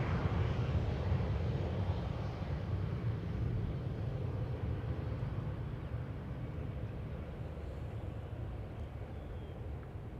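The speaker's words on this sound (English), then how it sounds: "still can hear reverse thrust being applied by an airplane that just landed on 27" Roar of a jet airliner applying reverse thrust after landing on runway 27 at Amsterdam Schiphol, a steady broad rumble heard from a distance that fades slowly over time.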